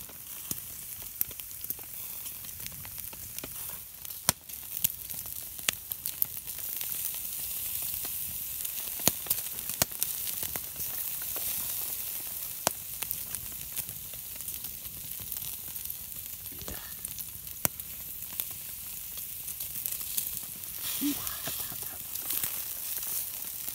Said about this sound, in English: we're gonna put the bacon on the fire now